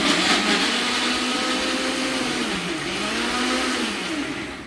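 An electric mixer grinder whirs loudly while grinding tomato chutney in a home kitchen, a continuous high motor drone with a slight wavering pitch and no voices.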